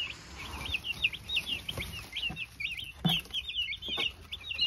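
Young broiler chickens cluck and peep in a steady run of short, high calls, with faint scratching and soft knocks around them at close range.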